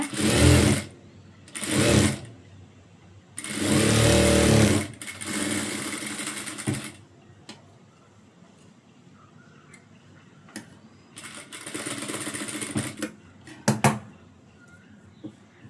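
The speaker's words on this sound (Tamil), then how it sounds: "உள்பக்கத்தில் பீஸ் வச்சு ஒரு 1/2 இன்ச்சுக்கு அப்படியே ஸ்ட்ரைட்டாக ஒரு தையல் போட்டுருங்க" Sewing machine stitching a straight half-inch seam on the inside of a blouse piece, running in several short bursts separated by pauses with faint clicks and handling noises, close and alone.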